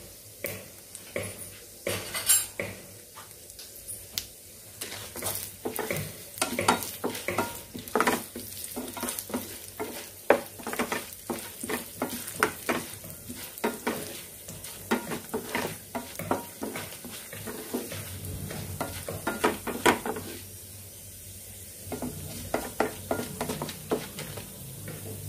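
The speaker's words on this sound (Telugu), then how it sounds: "మిర్చి కొంచెం ఫ్రై చేసుకుందామండి" Green chillies frying in a pan for ridge gourd peel chutney: continuous crackling sizzle with frequent clicks and scrapes of a spatula stirring, close and moderately loud, no voices.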